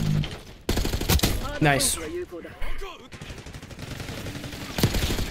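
Bursts of rapid gunfire from a first-person shooter, Call of Duty Black Ops 6, crackle in quick volleys with heavy low thumps, loud and close, while a player talks excitedly over the shooting.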